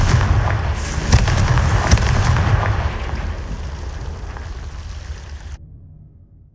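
A blast of Confringo, a fire spell in Hogwarts Legacy, crackles and booms, with sharp explosive bursts over a roaring rumble that slowly fades before cutting to silence.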